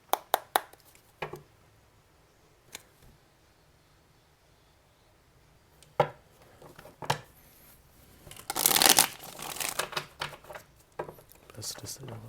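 Tarot cards being shuffled and laid out during a Cancer reading, with crisp papery riffles and slaps in scattered bursts and a denser shuffle near the end, heard up close under occasional talk.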